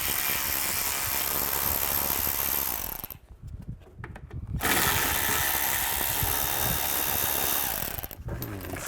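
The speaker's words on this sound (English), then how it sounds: "Now we're going to take these two bolts out. Use a 7mm socket." A power tool spins a 7mm socket to remove two bolts from a 2011-2015 Chevy Cruze during front lower control arm replacement, a loud continuous whir that cuts off briefly and resumes, with a short ratcheting pause near the end.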